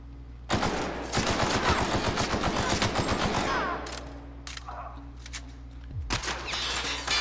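Loud rapid-fire gunfire in The Outer Worlds, a sustained automatic burst of about three seconds followed by a few scattered single shots, with no talking.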